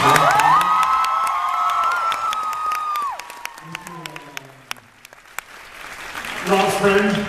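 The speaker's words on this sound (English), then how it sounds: "A round of applause for Loud and Swain." Audience at a convention panel in Las Vegas claps and cheers, a crowd roar building over a loud amplified voice on a sustained tone, then scattered claps before cheering rises again.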